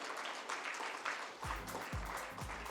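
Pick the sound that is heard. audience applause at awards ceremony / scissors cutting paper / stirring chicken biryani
audience applause at awards ceremony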